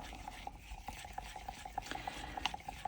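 Pigment being stirred into resin for a boat mould, soft repeated scraping and light liquid clicks, faint and close.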